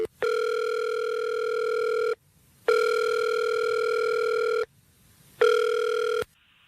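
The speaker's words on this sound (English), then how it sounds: "let's call Chris, see if we can get him on the phone" Ringback tone of an outgoing telephone call, three long steady electronic rings separated by short silences, loud and clear with no talk.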